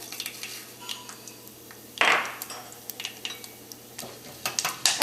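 Cumin seeds go into hot oil with peppercorns for a Karaikudi chicken curry, giving a sudden sizzling burst midway among quiet pan and utensil clinks.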